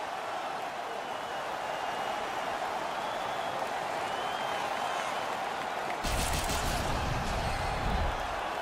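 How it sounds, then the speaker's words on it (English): Stadium crowd after a fight, a steady broad roar of cheering and applause that swells louder in the last few seconds, with no voices talking over it. "And the crowd back alive here inside the stadium."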